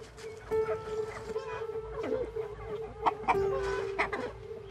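Chickens clucking and murmuring close by in rural Kenya, short irregular calls over a steady hum, with a few sharper squawks.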